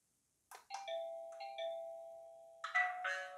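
A SMART D05 WiFi video doorbell's chime rings out in bright, sustained electronic tones, a short melodic sequence followed by a second ding-dong burst, clear and close in a quiet room.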